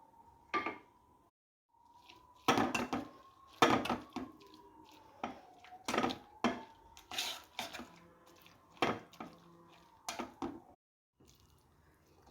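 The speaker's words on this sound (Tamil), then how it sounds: "ஸோ இப்போ வந்து ஒரு மத்து வச்சு நல்லா வந்து கடைஞ்சி எடுத்துக்கலாம்." A wooden churner mashes cooked moong dal in a pot with a series of soft, irregular squishing knocks and scrapes, close and fairly quiet, with a faint steady hum underneath.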